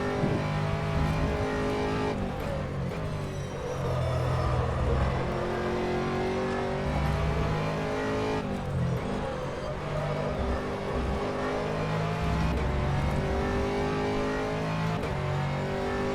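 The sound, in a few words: Aston Martin GT3 race car engine in video game rFactor 2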